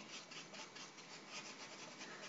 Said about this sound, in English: This one's quite a stiff bristle brush. So I can be a bit firmer with it on the sponge